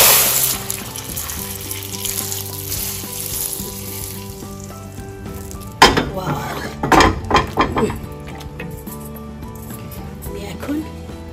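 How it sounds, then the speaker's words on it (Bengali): Fried cumin and garlic tempering poured into cooked lentils in a pot, a burst of sharp sizzling followed by bubbling crackles and clinking of a spoon against metal, heard close with faint background music. "এখন আমি বাগারটা দিয়ে দিচ্ছি।"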